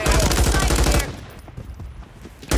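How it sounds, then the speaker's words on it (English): Video game gunfire, a loud fast burst of automatic shots that cuts off abruptly, followed by a quieter stretch before another shot. "Taking effective fire!"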